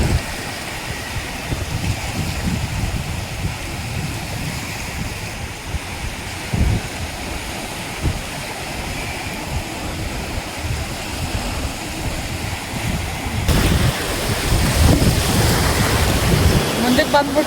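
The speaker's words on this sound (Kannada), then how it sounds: "ಅಲೆಗಳು ಮಾತ್ರ ದೊಡ್ಡ ದೊಡ್ಡ ಬರತ್ತವ. ಅಲೆಗಳನ್ನ ತೋರಿಸಿ." Big ocean waves at Byndoor beach in Udupi make a steady, loud roar of surf that rushes continuously and swells louder near the end, with wind-like noise mixed in.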